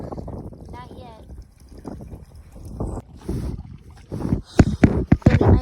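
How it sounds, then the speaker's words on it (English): Wind gusts buffet the microphone outdoors on a windy day, rumbling unevenly and growing stronger toward the end, while a person talks underneath. "It's windy, isn't it?"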